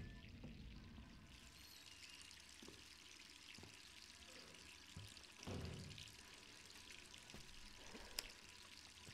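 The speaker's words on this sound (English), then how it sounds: "You gotta stop leaving your water on," A faucet left running in Jill's apartment in Resident Evil 3 pours a faint, continuous stream of water, with a few soft clicks and knocks over it and no talk.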